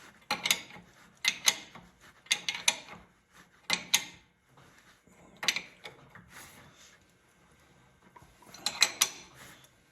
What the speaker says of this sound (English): Okay, now we tighten it up. 7/8 wrench.